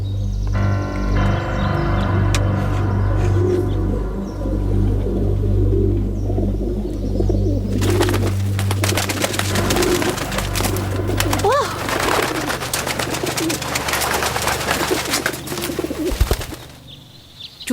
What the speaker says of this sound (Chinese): 到时间该放鸽子了。